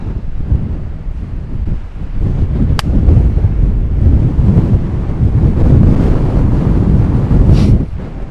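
Strong wind buffets the microphone on an open golf course during a storm, a steady low roar that swells and gusts throughout with a brief sharp click near the middle.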